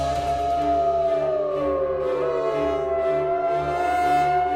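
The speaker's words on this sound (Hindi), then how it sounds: "जंगल के बाकी सियारों की टोली चांद की ओर देखकर हु हु हु हु की आवाज निकाल रही।" A pack of jackals howls toward the moon on a moonlit night in the forest, long wavering tones that rise and fall continuously and sound fairly close, with no talking.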